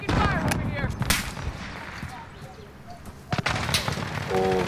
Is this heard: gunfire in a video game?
yes